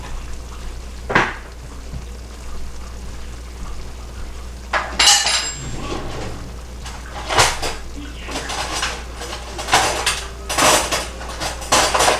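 Dishes, pots and cutlery are washed and handled in a kitchen sink: irregular clanks, scrapes and clinks of metal and crockery over a low background hiss, with a few louder knocks spread throughout.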